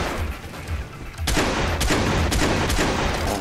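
Gunfire from a semi-automatic shotgun and other weapons in Watch Dogs. A quieter passage gives way to a loud, dense burst of shots, then several sharp, closely spaced blasts over continuous game noise.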